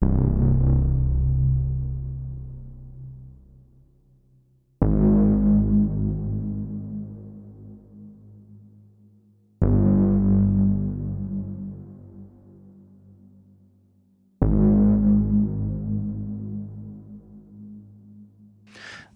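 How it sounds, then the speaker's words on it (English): Four deep Omnisphere software synthesizer bass notes, each struck sharply and slowly decaying over several seconds, evenly spaced with silence-like fades between them. "That's Omnisphere bass. Just playing a few notes."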